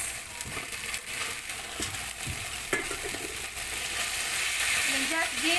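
Beef mince for aloo keema sizzles and crackles in a pan while being stirred, a steady close frying hiss with scraping of the spoon throughout.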